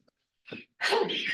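A single person sneezes once in a quiet indoor room: a brief soft intake, a short pause, then a loud, sharp, broadband burst that holds for about half a second.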